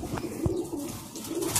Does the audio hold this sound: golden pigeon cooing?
yes